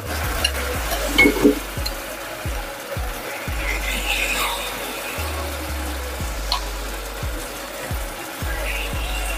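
Fried meat goes into a sizzling spice masala for biryani, a steady loud sizzle broken by regular scraping and thumping stirs of a spatula in the pot, close up with no talking.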